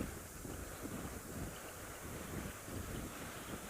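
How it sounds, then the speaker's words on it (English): Steady wind buffets the microphone throughout, a constant low rumbling roar with no voices, fairly quiet overall. "We have quite a bit of wind"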